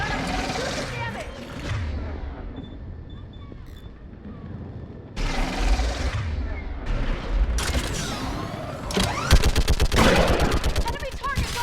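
Mounted gun in Mass Effect 3 hammering out loud rapid bursts that build into a dense, continuous barrage amid battle noise, with shouted voices in between.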